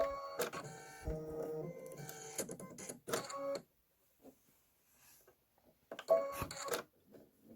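An embroidery machine stitches a chambray tote design, giving bursts of rapid mechanical needle chatter that stop and start, with quiet gaps between runs.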